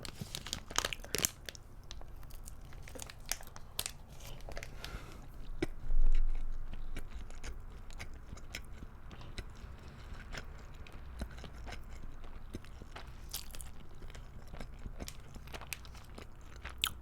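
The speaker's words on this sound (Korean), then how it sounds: "밥만 먹어보겠습니다" Close-up chewing and crunching of rice from a Spam musubi, with wet bites and mouth sounds coming in irregular bursts and a louder moment partway through. There is no talking.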